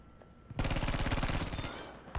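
A close, loud burst of rapid automatic gunfire in Battlefield 5, about a second and a half of steady repeated shots that tail off, with a further shot at the end.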